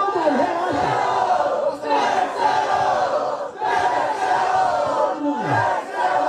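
A crowd at a rap battle shouts and roars its vote, two big surging waves of yelling with a short dip between, a lone voice speaking briefly amid the noise.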